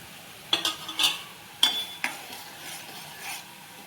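Gulab jamun balls made from sattu flour are fried in hot oil over a lowered flame, with a soft, steady sizzle broken by a few sharp metal clinks and scrapes of a utensil against the pan.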